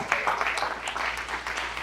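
A church congregation applauds, a dense patter of many hands clapping together, with voices mixed into the noise.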